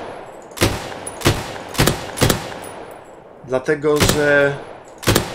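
Gunfire in the World War II shooter Battalion 1944 cracks out as sharp, loud single shots spaced roughly half a second apart, broken by a short burst of someone speaking before one more shot.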